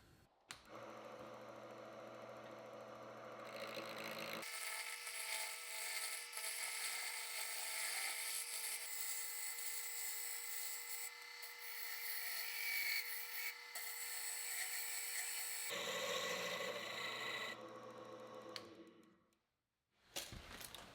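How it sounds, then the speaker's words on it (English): A wood lathe spins a drawer pull blank, first with a steady motor hum, then a loud continuous whirring scrape as the tool cuts for about ten seconds, before dropping back to the hum and briefly going quiet near the end. "I've got the blank in the lathe."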